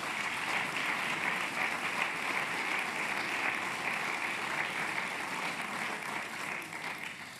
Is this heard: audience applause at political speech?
yes